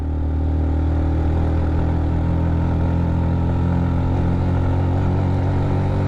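Motorbike straining uphill in second gear on a hill road from Nilgiri to Dim Pahar in Bandarban, a loud, continuous low engine drone that labours without letup and no talk over it.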